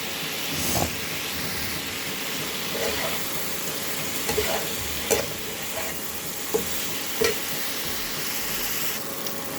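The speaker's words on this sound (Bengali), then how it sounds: "এত তেল চারিদিকে ছিটকচ্ছে। সয়াবিনগুলো দিয়ে দিলাম।" Soybean chunks fry in a pan of hot, spattering oil, giving a continuous soft sizzle broken by several sharp pops and clicks scattered across the stretch.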